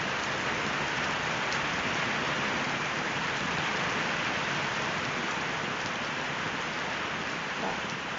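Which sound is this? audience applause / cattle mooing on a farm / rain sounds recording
rain sounds recording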